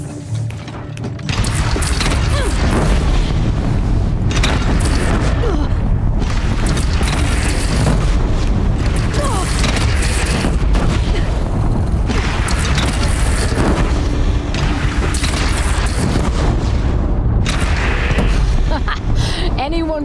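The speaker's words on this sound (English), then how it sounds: "They only have one cannon!" Deep booming cannon blasts from a single cannon in Horizon Zero Dawn, loud and repeated amid a constant roar of battle noise and crashing, with shouting voices over the din.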